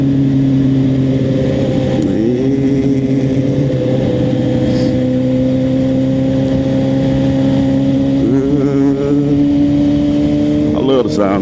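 A Suzuki GSX-R 750 motorcycle engine holds a steady, loud drone throughout, rising in pitch as it revs around two, eight and eleven seconds, with traffic-like background and a voice heard briefly under it.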